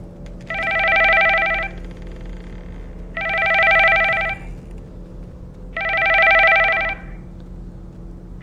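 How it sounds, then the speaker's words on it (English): A telephone rings in The Nanny horror video game, three long electronic ring bursts evenly spaced with quiet gaps between, loud and alone. "My phone been ringing for a damn long time."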